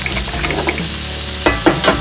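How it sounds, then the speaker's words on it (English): Food fries in an old cast iron skillet over an open fire, a close sizzle and crackle with a few brief scraping knocks near the end, no voices. "We're going to break our eggs right over top."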